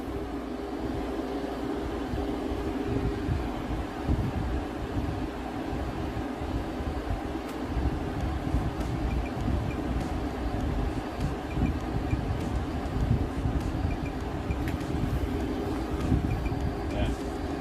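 A Frigidaire 5000 BTU window-mounted air conditioner runs with a steady broadband whoosh of blowing air and a low hum, constant and close, while a person talks over it.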